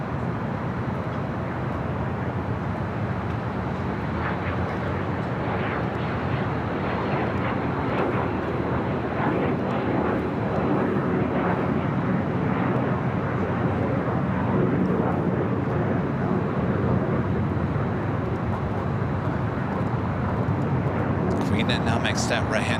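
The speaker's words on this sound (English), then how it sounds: "Next arrival, a flight coming in from Phoenix, Southwest Airlines flight 3825 is 737-800." A Southwest Airlines Boeing 737-800 arriving at LAX from Phoenix produces a long, steady jet roar that swells slightly midway, with a voice talking over it throughout.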